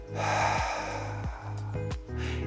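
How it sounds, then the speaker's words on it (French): A person breathes in through the nose and out through the mouth during an abdominal exercise, several audible breaths and sniffs close to the microphone over sustained steady background tones. "Je vais inspirer par le nez, expirez par la bouche"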